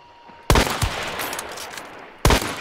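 Sharp, loud gunshots ring out in the video game Hunt: Showdown: a close report, a quick follow-up crack and a long echoing tail, then another shot near the end.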